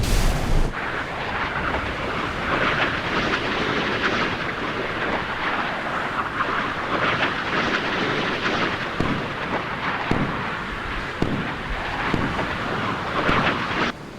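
Naval gunfire and explosions from Type 052 destroyers in a war video game, a dense, sustained roar of booming blasts and rumbling impacts with scattered sharper cracks, loud and continuous with no talk.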